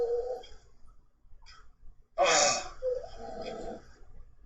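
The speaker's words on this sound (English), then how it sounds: "can you hear her snoring?" A dog sleeping nearby gives a soft snore, one loud wheezy snorting breath standing out amid quiet room noise, with faint murmuring around it.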